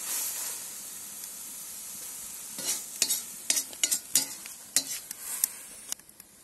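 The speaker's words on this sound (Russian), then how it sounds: "Также отправляем лучок. Все вместе обжариваем." Onions sizzle with beef in a cauldron over a campfire for chakhokhbili, a steady frying hiss broken halfway through by repeated clanks and scrapes of stirring, close and clear.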